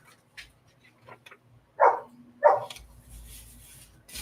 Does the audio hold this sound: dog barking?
yes